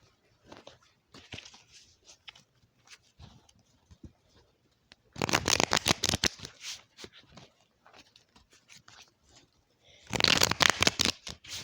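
Tarot cards being shuffled by hand: soft, rapid papery riffles and patters, with two longer, louder bursts of dense shuffling standing out from quieter handling, close up and with no voices.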